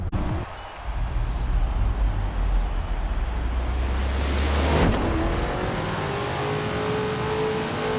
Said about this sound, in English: We get quite a lot of wheel spin off the line